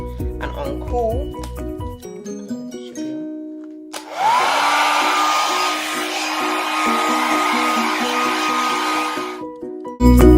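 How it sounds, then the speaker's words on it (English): A handheld hair dryer set to cool switches on partway through with a rising whine and then blows a steady, loud whoosh for several seconds before cutting off, after brief clattering and voice-like sounds. "Get my hairdryer, and on cool."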